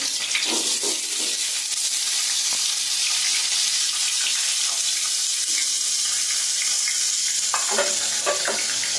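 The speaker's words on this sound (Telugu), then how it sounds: "కొంచెం నూనె అయితే కాగింది వేడెక్కింది ఇప్పుడైతే ఉల్లిపాయలు వేస్తున్నారు ఇందులో ఉల్లిపాయలు పచ్చిమిరపకాయలు అయితే వేస్తున్నాను" Chopped onions and green chillies sizzling steadily in hot oil in a pan for a village-style spotted snakehead fish curry, a continuous close crackling fry with occasional stirring clatter and no talk.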